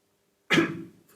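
A single sharp cough close up, bursting out of silence and trailing off quickly.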